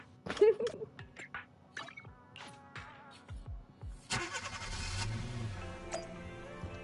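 A car engine starting in Zenless Zone Zero, coming after a few clicks and clunks of someone getting in and then settling into a steady idling hum, fairly quiet and close.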